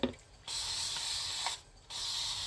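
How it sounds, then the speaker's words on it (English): Alcohol is sprayed from a spray bottle onto a resin table top in two sustained hissing bursts, close and fairly loud, separated by a short pause. "My alcohol, like I said earlier, spray it really good."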